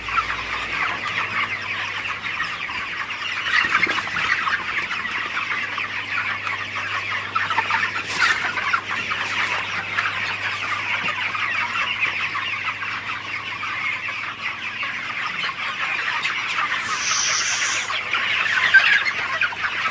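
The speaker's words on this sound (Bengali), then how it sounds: "এখান থেকে মুরগিগুলাকে তাড়াই দিতে হবে" A crowded flock of chickens on a hobby farm in Faridpur keeps up dense, continuous clucking and chattering, with a steady low hum beneath and no talk.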